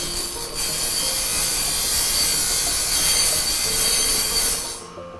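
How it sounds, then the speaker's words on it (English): Bench grinder running against a welded metal-cutting bandsaw blade, a steady loud high-pitched grinding hiss that holds for several seconds before cutting off at the end. "Now that is where we then walk down to our grinder down below. Go ahead and click this on"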